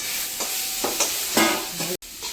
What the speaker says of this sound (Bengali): এখন সয়াবিনগুলো ভাজা করে নেব।